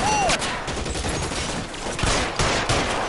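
Rapid gunfire in the 1940s detective game L.A. Noire, dense overlapping shots forming a continuous fusillade with loud bursts, set among game effects.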